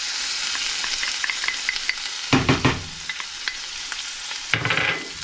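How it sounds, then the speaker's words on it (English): Onions sizzling in a hot pan for shakshuka, a steady crackling fry with scraping stirring strokes on top, close and fairly loud with no talk. "I'm going to add the onions with it."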